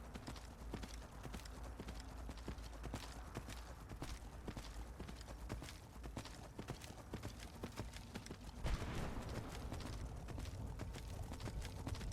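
Horse hooves gallop in a steady, rapid clip-clop rhythm in the video game Skyrim, loud and close throughout, with a brief brighter burst near the end.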